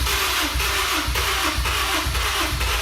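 Starter cranking over a Honda S2000 engine being rebuilt after a wreck, a steady whirring churn with rhythmic pulses about every half second, continuous and close, no voices.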